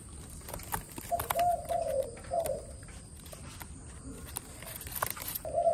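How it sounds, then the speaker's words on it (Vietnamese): A Malaysian spotted dove cooing in a few short, soft phrases at close range, with faint rustling and background noise between calls. "Con này là con chim lẻ nha anh em."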